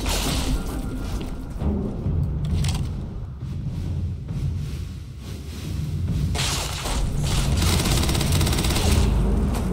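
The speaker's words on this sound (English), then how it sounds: "They're still firing at me." Sustained gunfire from pirates in the space game Starfield, dense overlapping bursts and booms filling the whole stretch, loud and continuous with swelling peaks.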